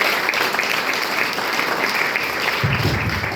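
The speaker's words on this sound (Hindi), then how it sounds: "मिस्टर नसीब खान सर का नाम जैसे ही आया सर तो जोरदार तालियां होनी चाहिए सर के नाम।" Dense, steady applause from a large crowd at a business seminar in a hotel, continuous and loud throughout with no pauses.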